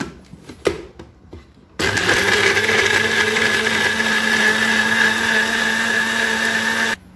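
A mixer grinder whirs steadily as it purees carrots for rainbow appam batter, running loud and continuous for about five seconds after a few small knocks, then cutting off abruptly.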